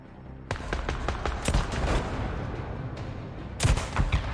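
Gunshots ring out in the video game Days Gone, with a few sharp reports near the start, a rattling burst in the middle and a louder cluster toward the end, all close and loud over a background rumble.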